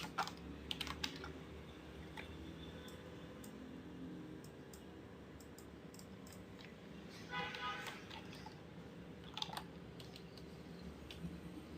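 Steady typing on a computer keyboard during a software tutorial, with continuous close key clicks and a few louder bursts over a low background hum.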